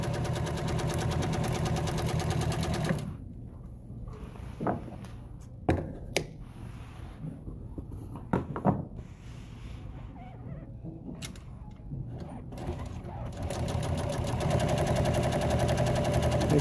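A sewing machine stitches pleats into an auto upholstery front seat insert, whirring steadily at the start and again at the end, with a quieter stretch of scattered clicks in between.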